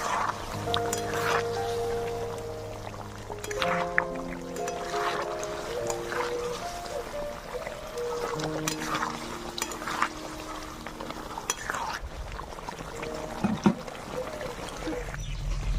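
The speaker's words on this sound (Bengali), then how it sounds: "চিকেন মশলা গরম মশলা আর দিব বিরিয়ানি মশলা দিয়ে ভালোভাবে মাংসটাকে নাড়াচাড়া করে নেবো" Chicken pieces coated in chicken masala, garam masala and biryani masala being stirred for biryani, with scraping and clinking of a utensil against the pot over a steady sizzle, accompanied by continuous background music.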